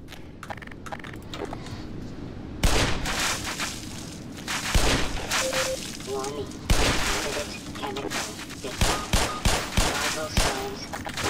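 Gunfire in the video game Black Mesa: Xen: repeated sharp shots and rapid bursts punch through a dense, continuous backdrop of game noise across the whole stretch.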